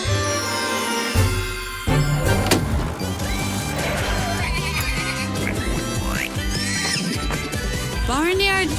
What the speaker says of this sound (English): Milo and I are on our way to feed Baby Pony